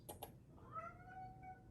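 A pet cat gives a drawn-out, rising and falling meow after a couple of short noises, sounding moderately close above a low background hum, with no one talking.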